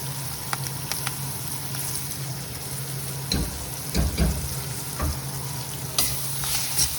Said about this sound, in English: and the curry leaves. So this is my tadka.